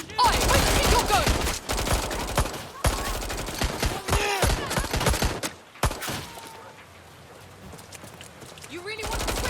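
Bursts of video-game gunfire in Watch Dogs Legion, loud and close, with rapid automatic volleys and single shots over the first six seconds, then a quieter lull before firing resumes at the end, with voices mixed in.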